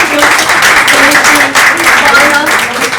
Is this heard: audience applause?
yes